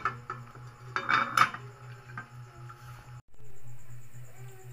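A metal lid clatters onto a cooking pot of milkfish soup on the stove, a few sharp clinks and knocks close by, then a steady low hum.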